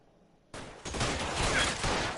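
Continuous heavy gunfire breaks out in a police shootout in the video game L.A. Noire, starting abruptly after a quiet moment and staying loud and dense as a sustained volley.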